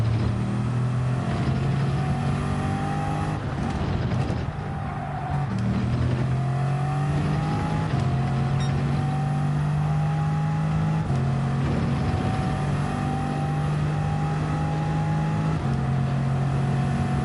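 A car engine in a racing video game drones and revs continuously, its pitch climbing through gear after gear with repeated shifts, loud and steady throughout with no talk.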